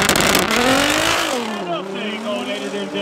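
BMW and Nissan Skyline drag racing cars at Midvaal Raceway, a loud engine note climbing in pitch as a car accelerates away, then fading and holding at a steadier, more distant whine.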